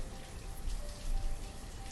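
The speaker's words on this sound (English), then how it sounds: "Current weather. I think it's raining." Steady rain in the city-building game Banished, a soft, even hiss of falling drops with a low rumble underneath, continuous and quiet with no talk.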